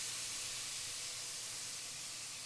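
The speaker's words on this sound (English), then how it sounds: "Listen to that sizzle." Steady, bright hissing sizzle of carne asada meat searing on a hot grill, heard close and unbroken throughout with no speech.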